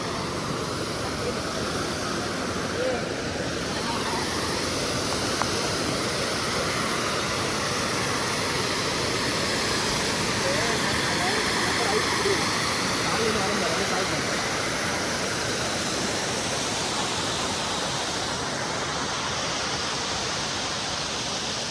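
Beeman waterfall roaring as a steady, dense rush of falling water, loud and continuous throughout with no pauses.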